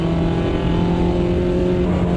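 A Mini race car in the sim racing game Automobilista 2 at Guaporé holds a steady, loud engine drone with strong tonal harmonics, sustained without a break and with no talk over it.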